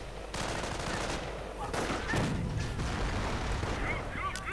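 Mortar blasts and sniper shots crack through a WWII strategy game battle, a scattered burst of sharp reports and booms with a distant bird-like chirping, over faint background noise.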